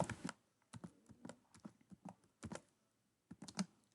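Computer keyboard typing in short bursts of quick close key clicks with brief pauses between them, entered into a citation manager document, no voices.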